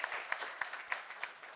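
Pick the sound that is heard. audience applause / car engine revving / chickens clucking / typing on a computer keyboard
audience applause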